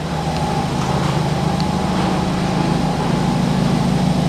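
A BMW 220i M Sport engine runs on a jump booster, a steady, continuous close-up hum and drone holding at an even level throughout with no talking.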